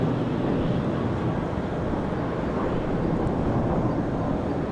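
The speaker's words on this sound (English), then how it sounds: "Good look at that 737 MAX 8 off to Denver, Colorado." A Boeing 737 MAX 8 airliner roars on takeoff from Charlotte Douglas International Airport on a windy day, a steady broad rumble heard at a distance with wind buffeting the microphone.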